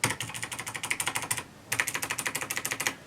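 Rapid typing on a mechanical keyboard with dampened keys and one undampened escape key, two bursts of close, crisp, even clicks separated by a brief pause.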